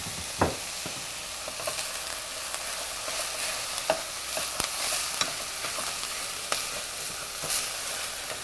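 Roughly chopped kale leaves sauté and wilt in a hot pan, a soft, steady sizzle with scattered scraping stirs and light utensil taps every second or so, moderately quiet.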